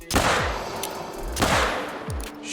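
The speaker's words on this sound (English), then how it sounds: "so I'ma shoot him using the 454 Rhino" Three heavy gunshots from a .454 Rhino revolver in the hunting game theHunter: Call of the Wild, loud sharp blasts roughly a second apart, each followed by a booming echoing tail.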